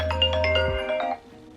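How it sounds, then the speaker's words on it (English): A mobile phone ringing with a bright electronic melody of quick tonal notes, close and clear, which cuts off about a second in and leaves a quiet room. "my phone just keeps ringing."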